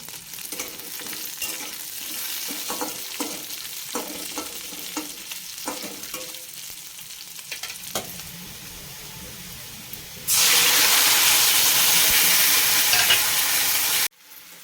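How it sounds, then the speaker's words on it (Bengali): Potatoes fry in hot oil in a pan with nigella seeds, onion and chilli, a soft crackling sizzle broken by scraping stirs, then a sudden loud, steady hiss for a few seconds before cutting off abruptly. "এবার আমি আলুগুলোকে ভেজে নেব"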